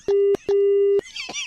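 A telephone line gives a busy tone after a call is hung up, two long, steady beeps separated by a short gap, loud and close, followed by a brief burst of noise.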